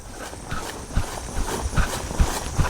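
Horse walking down a fairly steep, wet grassy hill in a large open field, hooves thudding in an uneven, soft rhythm with one stumble, close by and moderately loud with no talking.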